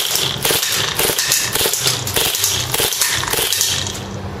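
KWA MP9 airsoft submachine gun firing full auto at a 50-foot target, a loud close rapid stream of cracking shots with no pauses.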